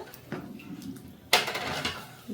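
Avarekalu bisi bele bath is served into a bowl with a soft scrape followed by a bright, sharp clink of dishware and a few lighter knocks.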